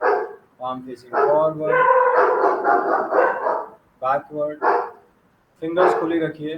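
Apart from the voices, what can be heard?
dog barking in the background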